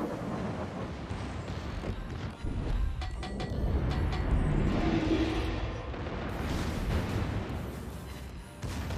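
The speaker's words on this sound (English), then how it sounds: "when those big guns hit, it's also like 2k damage" Big secondary guns of the Atlantico battleship boom in a naval video game, a dense rumbling barrage of heavy cannon fire with overlapping blasts, loud and continuous.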